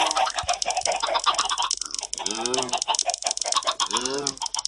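Chickens in the Minecraft video game give repeated clucks, loud and near, with a few keyboard-like clicks mixed in and a voice speaking at times.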